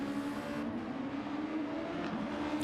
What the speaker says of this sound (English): he gets reset to track and spins the rears up while he tries to get going